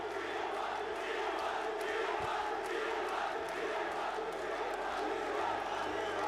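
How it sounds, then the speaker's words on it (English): Big arena crowd at the Esports World Cup League of Legends grand final, T1 against Top Esports, roaring and cheering in a dense, steady wash with scattered shouts throughout. "And you can just hear the crowd."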